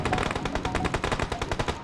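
Rapid automatic gunfire in a mobile battle-royale shooter game, a steady stream of close, loud shots firing in even bursts with no voices over it.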